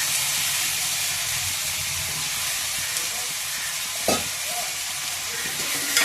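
Brinjal pieces dropped into a pot of salted water for egg and brinjal vadiyalu pulusu, giving a steady hissing simmer with a soft splash and clatter near the end, no talking.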